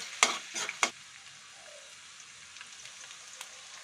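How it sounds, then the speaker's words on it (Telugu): Chana dal fries in hot oil with dried red chillies and grated ginger. A few sharp stirring scrapes come first, then a faint, even sizzle carries on alone. "పచ్చిశనగపప్పు కూడా వేసి వేయించుకుందాం."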